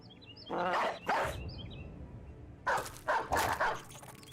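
Dogs in the video game Battle Brothers give a few sharp barks and yips, a pair early then a quick cluster of three or four, moderately loud over quiet ambient background.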